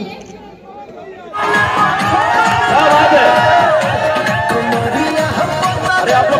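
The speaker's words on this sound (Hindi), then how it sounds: "जोरदार तालियां" A crowd at a birthday party erupts into loud cheering and shouting after a quieter moment, with voices, chatter and whoops massed close by and sustained to the end.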